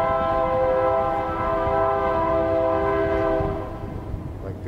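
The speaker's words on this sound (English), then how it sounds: "The sounds of the train in the background." A train rolls past an abandoned roadside motel ruin on Route 66 near Afton, its loud, sustained horn chord holding steady for several seconds before fading, with rumbling wheels underneath.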